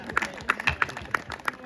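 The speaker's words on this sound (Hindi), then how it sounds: "एक बार दादा के सम्मान में ताली बजा।" An audience claps at a Hindi poetry gathering (kavi sammelan) in Bemetara, a short burst of scattered, uneven hand claps heard up close.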